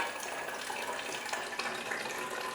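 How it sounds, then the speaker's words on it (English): Tap water pours steadily into a plastic bottle, a close, continuous hissing splash with no talking over it. "we'll go ahead and fill up this plastic bottle"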